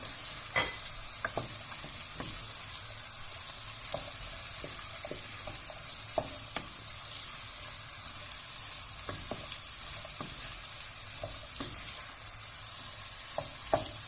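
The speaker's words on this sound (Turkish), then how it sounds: "Şimdi patatesimi ekliyorum. Kavurmaya bu şekilde devam edeceğim." Potatoes sauté in a pan with garlic while a utensil scrapes and stirs them in irregular clacks over a continuous, close-up hiss of frying.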